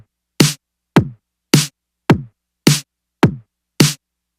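Layered kick and snare drum samples, two kicks and two snares stacked, hit alone in a slow even alternation, seven punchy, dry, close strikes with short decays and silence between.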